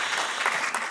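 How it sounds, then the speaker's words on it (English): Brief burst of audience applause at a panel discussion in a university hall, dense and steady clapping from many hands heard throughout the short moment. "Sure, you can applaud the diamond."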